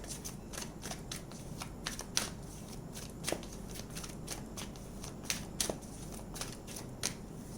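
Tarot cards are shuffled by hand, with repeated crisp riffling and flicking bursts at an irregular rhythm. The sound is close but fairly soft over low background noise, with no speech.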